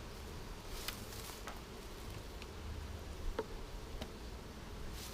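Honey bees from a package colony buzz inside a hive, a faint, steady, diffuse drone with a few sharp ticks and taps scattered through it, and no voices.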